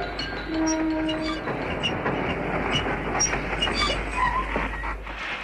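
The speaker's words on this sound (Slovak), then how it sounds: "Vlak pokračuje v ceste." Train running on rails as a 1960 Slovak radio play sound effect, a steady rolling rumble with a brief horn-like tone and faint clatter throughout, fairly loud with no talk.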